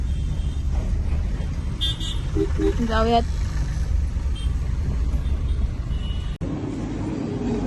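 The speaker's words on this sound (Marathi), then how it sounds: "थोडी ट्रॅफिक झालेली आहे" Road traffic rumbles steadily with passing cars, and a short horn toot sounds partway through, while a person says a word nearby.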